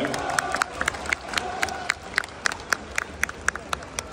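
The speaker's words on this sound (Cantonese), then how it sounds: "請大家再一次俾熱烈掌聲我哋嘅儀仗隊。" A crowd at a fire school open day applauds the fire services guard of honour, with scattered, sharp claps spreading out into a steady burst of near clapping and some murmuring voices mixed in.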